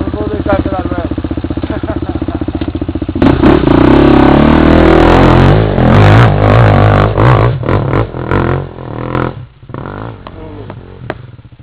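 A tractor engine rumbles loudly and steadily as it drives up close, rising in intensity partway through before easing off, with people talking over it.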